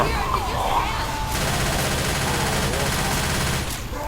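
Dense, continuous gunfire from several players in Left 4 Dead 2 on the Fatal Freight map, loud and close, with overlapping rapid bursts and no pause.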